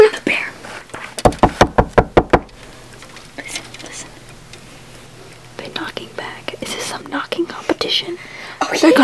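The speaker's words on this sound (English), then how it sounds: "So if I knock on that, they're going to think we're at the door." Knuckles rap on a wall in a quick burst of about eight sharp, evenly spaced knocks near the start, followed by whispering and talking.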